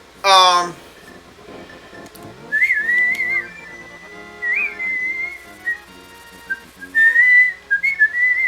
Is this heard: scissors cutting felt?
no